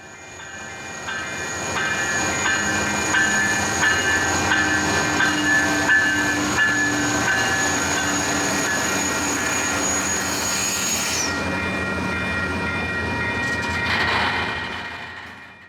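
A brand-new CPKC freight locomotive rolls past at Gray Street with a steady heavy rumble and rail clatter. A high, thin whistling tone rides over it before cutting out, and the passing noise then fades. There is no talking.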